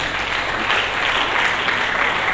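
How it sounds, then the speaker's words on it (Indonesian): A church congregation breaks into steady applause during a Good Friday service, many hands clapping in a full, even wash with no gaps. "Berikan tepuk tangan bagi Yesus."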